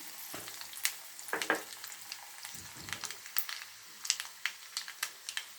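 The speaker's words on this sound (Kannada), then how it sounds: "ನೋಡಿ ಎಣ್ಣೆ ಕಾದಿದೆ. ಸೊ ಅದಕ್ಕೆ ಒಗ್ಗರಣೆ ಐಟಮ್ ಹಾಕ್ಕೊಂಡಿದ್ದೀನಿ." Tempering spices for puliyogare crackle and sizzle in hot oil, with sharp irregular pops and spits over a soft, steady frying hiss, close and fairly quiet.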